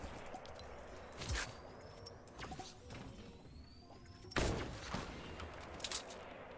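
Semi-auto sniper rifle shots in the Fortnite Season 5 video game: a few sharp, fairly faint cracks spaced irregularly over quiet game ambience, with the strongest shot about two-thirds of the way through and no one speaking.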